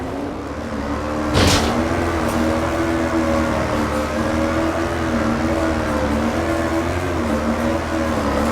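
The Flash, a light quad vehicle in PlanetSide 2, with its engine held at a steady, droning hum and a brief whooshing burst near the start, loud, continuous and close, without talk.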